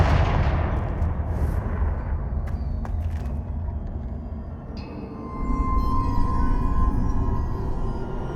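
A Confringo blasting spell in Hogwarts Legacy erupts in heavy booming explosions with sharp cracks, followed by a sustained rumble that swells again near the end and ringing tonal tails.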